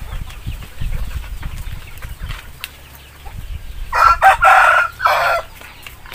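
Free-range Basilan Paraokan native chickens cluck low and softly at first, then a rooster crows loudly in several drawn-out bursts near the end, close by.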